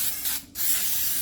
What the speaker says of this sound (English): I'm using my Baker's Joy baking spray